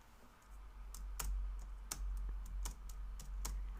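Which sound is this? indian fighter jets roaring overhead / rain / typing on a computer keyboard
typing on a computer keyboard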